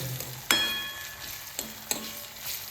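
Onion frying in a pan with mustard seeds, garlic, chili and cumin gives a soft, steady sizzle, cut by a few sharp clinks and scrapes of a spoon against the pan.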